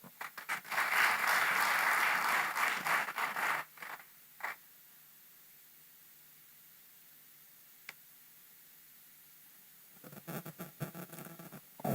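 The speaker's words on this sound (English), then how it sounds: "Can we make that applause more rousing?" Audience applause at a Nigerian Institute of Electrical and Electronics Engineers event: a loud burst of clapping fills the first few seconds, dies away into near silence, then a second, quieter round of clapping rises near the end.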